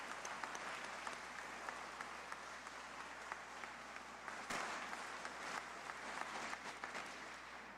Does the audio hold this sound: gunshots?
no